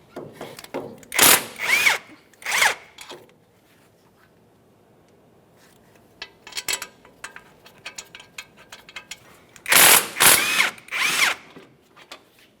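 A power tool (impact or drill driver) spinning out an 18 mm caliper bracket mounting bolt on a 2004–2008 Ford F-150, in loud whirring bursts at the start and again near the end, with quieter clinks and handling noises between.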